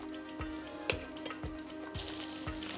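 French toast bread fries in butter in a non-stick pan, a moderate sizzle with several soft utensil clinks and scrapes against the pan, no voices.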